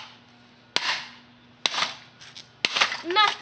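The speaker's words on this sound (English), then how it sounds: "What would happen if I smack it with a hammer?" Three sharp, loud metallic bangs spaced about a second apart, each followed by a brief ringing decay, with faint movement noise between strikes.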